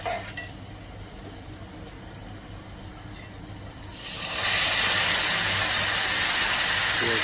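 Cow's milk hits a hot pan while making semolina sheera, and a loud, steady steaming hiss bursts in partway through after a quiet start, then holds to the end.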